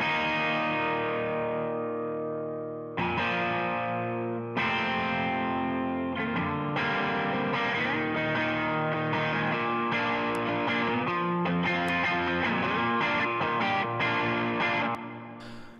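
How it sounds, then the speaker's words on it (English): Two electric guitars, miked with an Audio-Technica 4040 condenser and an AEA ribbon microphone, play a sustained distorted passage with effects, strummed chords ringing steadily and loudly throughout with no voices. "I have an Audio-Technica 4040 and an AEA ribbon mic on the two main electrics."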